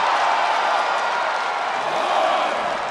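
Arena crowd in WWE 2K24 cheering through a Brock Lesnar vs. Cody Rhodes match, a steady loud roar of noise that holds throughout without breaks.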